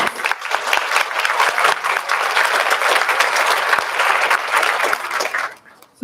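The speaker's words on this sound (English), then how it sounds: "Let's give her a round of applause." An audience at a school choir concert claps loudly and steadily for the pianist, a dense burst of applause that fades out near the end.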